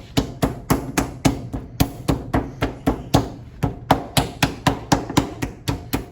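A slab of clay laid between two cloths is pounded flat toward half an inch thick, a steady series of around twenty-five dull, thudding blows in an even rhythm, close and with no speech.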